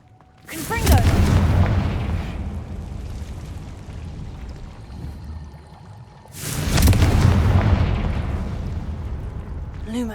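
A Confringo blasting spell in Hogwarts Legacy, two loud booming explosions a few seconds apart, each a sharp burst followed by a long rumbling decay, with a voice speaking beneath.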